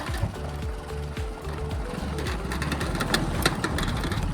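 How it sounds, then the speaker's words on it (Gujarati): A tractor engine runs close by with a steady low chugging idle and a faint rising whine, continuous and fairly loud throughout. "તો આપણો ભાઈબંધ આવ્યો ટ્રેક્ટર લઈ."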